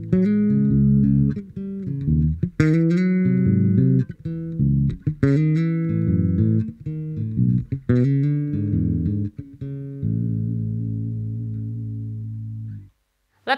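Bass guitar played through a Markbass Little Mark Vintage tube bass amp, a loud close run of plucked notes and slides that ends on one long sustained low note fading out, with no talking.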